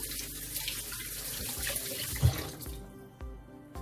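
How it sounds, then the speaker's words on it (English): A kitchen tap runs steadily while hands are rinsed under it during bulla cake baking. The water hisses loudly and close, then shuts off, leaving a few faint drips and knocks. "let me wash my hands again"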